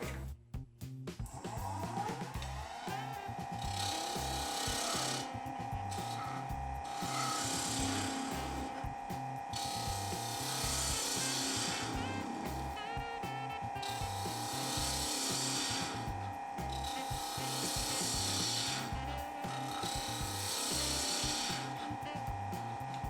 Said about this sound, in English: I'm going to start hollowing out the inside. Again, I'm using my 3/8 inch bowl gouge